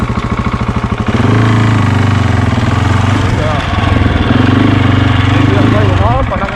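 Husky 701 motorcycle engine pulling away under way, a loud steady single-cylinder drone that starts as a rapid idle thump and rises into sustained riding revs, close and continuous.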